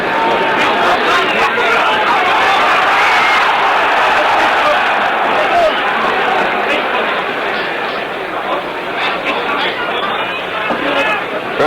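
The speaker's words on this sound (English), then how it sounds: "Crowd yelled when the champion was in the corner." Boxing arena crowd at the 1966 Ali vs Mildenberger heavyweight bout in Frankfurt, Germany, a dense roar of yelling and cheering that stays loud and continuous throughout.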